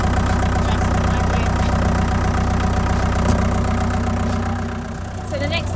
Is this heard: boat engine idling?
yes